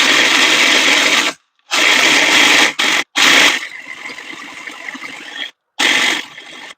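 Coconut and almonds are pulsed in a blender in several loud bursts of grinding whir, each cut off sharply by silence, with shorter pulses toward the end.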